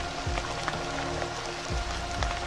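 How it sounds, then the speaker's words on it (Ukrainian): Rain taps steadily on house rooftops at night, a continuous even patter with faint tonal music underneath. "Дощ ритмічно постукував по дахах будинків, немов відбивав пульс нічного міста."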